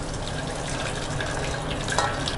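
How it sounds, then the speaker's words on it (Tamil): Water drained off boiled chickpeas pours and gushes steadily, a continuous splashing flow close by, with no talking. "இப்போ நம்ம தண்ணியை வடிச்சுக்கலாம்."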